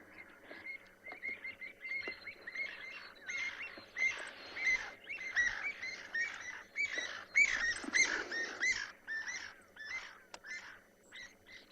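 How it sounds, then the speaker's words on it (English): A harrier hawk at sunset on a Kalahari safari gives a run of harsh, squealing calls, building to a loud, agitated burst in the middle before fading back to quiet. "I think a harrier hawk was having a bit of a hard time there."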